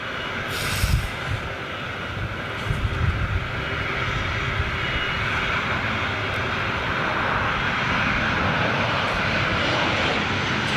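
A Qatar Boeing 777 jet on approach at about 10,000 feet gives a steady, broad engine roar from a distance, a continuous rumble that holds level throughout with no talk.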